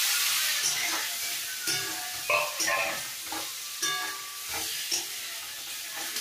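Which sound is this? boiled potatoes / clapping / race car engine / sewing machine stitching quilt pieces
boiled potatoes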